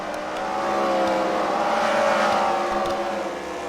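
A race car at a CWRL racing event passes another car on track, its engine rising to a loud, close roar and then fading as the pair sweep by, with no voices.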